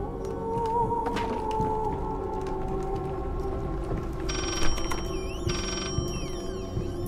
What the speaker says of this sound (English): I need to answer the phone!